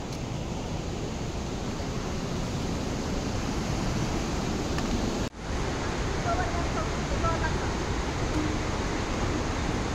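A mountain river rushes along the Langtang trek in Nepal, a steady broadband roar of water that holds constant for the whole stretch, with one brief dropout midway.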